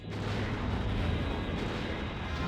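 Missiles and torpedoes launching in a space combat game: a dense, continuous roar of firing and rushing launch noise, loud and sustained with no pauses.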